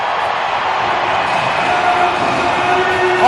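A college hockey crowd, led by a loud student section, roars and cheers continuously at a Minnesota Duluth versus Denver NCAA game, a dense, sustained wall of arena noise.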